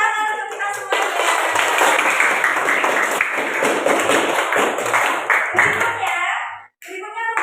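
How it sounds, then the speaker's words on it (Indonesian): A classroom group, likely children, claps together loudly for several seconds in a lively, somewhat rhythmic burst with young voices mixed in, then it stops abruptly and talk resumes. "Tepuk tangan untuk kita semuanya."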